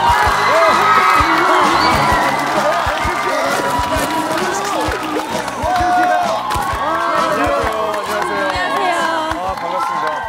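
A Korean TV talk-show studio audience erupts in loud, sustained applause and cheering as guest Suzy is welcomed, with dense clapping and whoops holding steady for the whole stretch.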